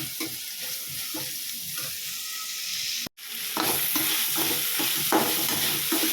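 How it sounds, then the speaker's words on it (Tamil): Carrots and beans frying in a pan while being stirred: a steady broadband sizzle with repeated scraping stirs, a brief break of near-silence in the middle, then louder sizzling and stirring. "கேரட் பீன்ஸை நல்லா கிளறி விடுங்க."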